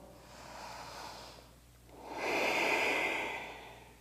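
Steady, audible breathing during an Ashtanga yoga practice: a soft, drawn-out breath followed after a brief pause by a stronger, airier one, close and with no talking.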